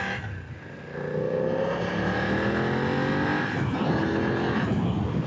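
2025 BMW F900R motorcycle accelerating hard, the engine note climbing steadily in pitch through the gears with continuous wind rush, loud and close as if heard from the rider's position.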